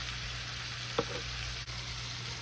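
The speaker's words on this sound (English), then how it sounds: "push some of the potatoes aside and add in some butter. Gonna get this melted." Butter melts and sizzles in a stovetop pan beside potatoes for smothered chicken, giving a steady, even frying hiss throughout with one brief soft clink partway through.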